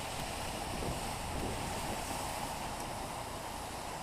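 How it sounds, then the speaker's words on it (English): Ocean waves surge against coastal rocks at Albany, a steady, washing roar of surf mixed with gusting wind noise. "That's how far the waves have come up."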